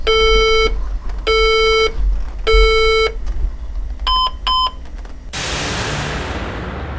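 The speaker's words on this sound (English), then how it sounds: "So I tried to boot it up and I got beep codes" Three long electronic beeps, then two short higher beeps from a computer's POST beep codes on boot, loud and close, followed by a steady whooshing fan noise.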